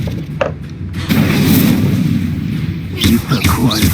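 Incendio fire spell cast in Hogwarts Legacy, a burst of roaring, crackling flame that swells in and rumbles steadily for a few seconds, loud and close, with a voice speaking over the fire.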